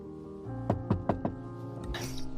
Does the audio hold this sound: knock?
yes